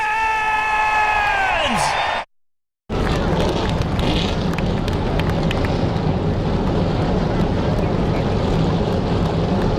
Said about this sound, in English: the engines are roaring